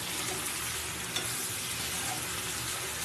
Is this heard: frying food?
yes